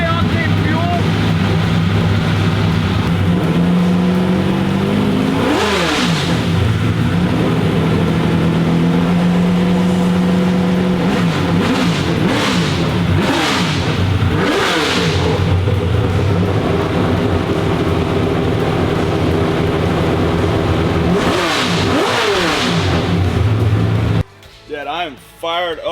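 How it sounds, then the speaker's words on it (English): NASCAR drift truck engine idling loudly while warming up, with several blips of revs rising and falling throughout, close and dominant, with people talking over it before it cuts off near the end. "So let's let it warm up and give it a few revs."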